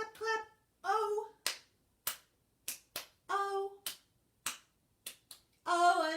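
Single hand claps during a children's storytime song, several sharp isolated claps spaced between sung phrases, close and clear with a voice singing in between.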